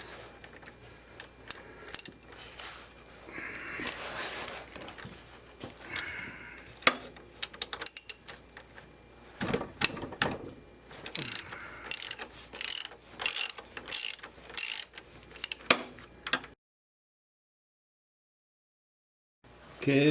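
A ratchet with a 17mm socket loosens the rear transmission mount bolts on a Mercedes-Benz W140 S320, with repeated bursts of rapid clicking pawl strokes and metallic knocks, followed by a silent pause near the end.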